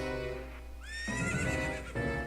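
A horse in Ocarina of Time 3D lets out a loud, rising whinny that breaks into a shuddering neigh and a final snort, heard close over a steady game background hum.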